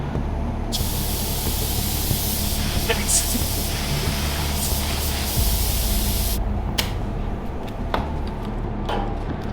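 Compressed-air paint spray gun hissing steadily while spraying an off-road vehicle, a broad continuous blast with brief pauses and a loose, freshly tightened nozzle, loud and close throughout.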